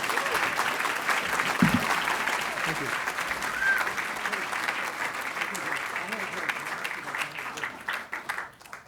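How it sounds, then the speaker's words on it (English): An award show audience gives Orson Welles a sustained round of applause, dense clapping from a large crowd in a hall that holds steady for several seconds, with a brief low thump partway through. "So I think we should just all give a round of applause to Orson Welles."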